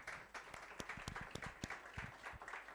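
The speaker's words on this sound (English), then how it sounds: "let's give them another round of applause" Audience applause at a live chat event, a short burst of scattered hand claps of moderate loudness without any voices.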